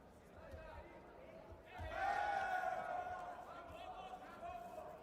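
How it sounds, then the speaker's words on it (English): A crowd at a professional jiu-jitsu match in Abu Dhabi swells into cheering and shouting, rising partway through and holding steady, heard at a distance beneath a commentator's voice. "You can hear the crowd get behind the athletes here"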